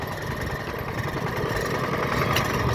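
A farm tractor engine chugs continuously while being ridden in the rain, a steady mid-low rumble at moderate level with no talk over it.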